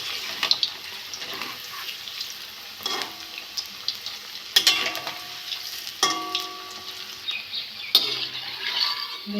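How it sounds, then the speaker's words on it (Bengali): Potato and onion pakoras go into hot oil in a kadai, each drop setting off a fresh burst of sharp sizzling that settles into a softer bubbling hiss, with scattered clinks between the bursts. "তেলটা গরম হয়ে গেছে। আমি এবার ভেজে নেব পকোড়া।"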